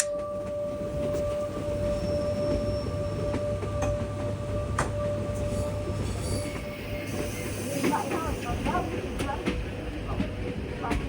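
A sleeper train in Vietnam runs steadily with a constant low rumble, a faint tonal whine and occasional clicks and squeals from the wheels, heard from inside the carriage.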